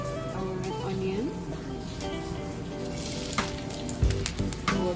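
Red onion hitting hot cooking oil in a pan, a steady sizzle and crackle with a few clanks of utensils, heard close as a person talks over it.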